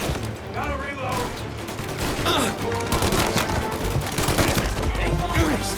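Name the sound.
gunfire in video game Mafia (PS5)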